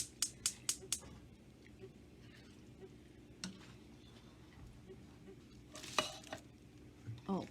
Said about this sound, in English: I've got this pot going because I want to cook up some pasta. So let's stir that a little bit